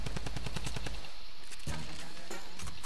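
A drum gun fired in Fortnite: rapid, loud automatic bursts rattle off in a fast even rhythm, break briefly, then resume with scattered shots and game effects.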